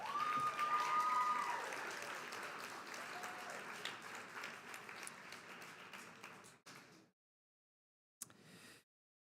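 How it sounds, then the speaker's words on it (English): Sustained crowd applause from families and guests at a community college nursing pinning ceremony, loud at first and gradually thinning, then stopping abruptly, with a brief final burst of clapping near the end. "Please give them a round of applause."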